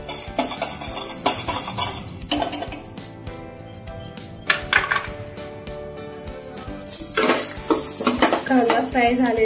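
Chopped onion frying in oil in a pan for dal khichdi, a steady sizzle broken by repeated stirring scrapes and light metal clinks of the spoon against the pan, close up, with no talking.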